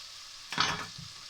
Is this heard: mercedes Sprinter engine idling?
no